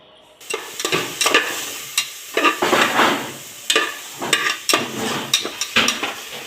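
Masala fries and sizzles in a pan on a home kitchen stove, with repeated scraping stir strokes in an uneven rhythm, loud and close, and no talking.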